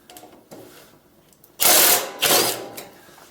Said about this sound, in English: I'm going to put it in reverse, and then I'm going to drill this out